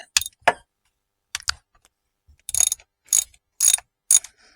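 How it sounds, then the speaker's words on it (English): A hand ratchet wrench loosens bolts on the ZF 8-speed transmission of a 2016 Range Rover L405. Short, close bursts of sharp ratcheting clicks are separated by quiet pauses, with no voices. "now I'm going to switch back to the hand wrench, and I'm just going to loosen the front"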